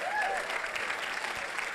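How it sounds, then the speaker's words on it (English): Brief applause from an audience during a science talk at a summit, a steady wash of many hands clapping at a moderate distance, fairly soft, with a faint voice near the start. "Did not think that would get an applause."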